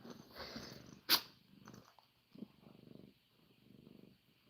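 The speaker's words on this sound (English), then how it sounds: "Look at that purr." A house cat purring close by, a soft low rumbling that fades in and out in bursts, with one brief sharp noise early on.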